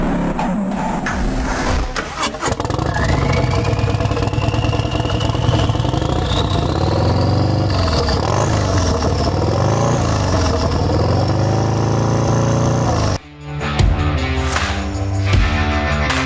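A Harley-style performance bagger motorcycle runs loud and close, its steady engine rumble rising and falling with revs for most of the stretch before a brief cut near the end.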